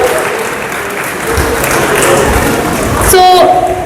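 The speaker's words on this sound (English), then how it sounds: "Let's give a big round of applause to our little heroes and heroines of Karnataka." An audience at a Rajyotsava celebration claps steadily, the applause swelling with some cheering and a brief whistle-like tone near the end, loud and continuous with voices mixed underneath.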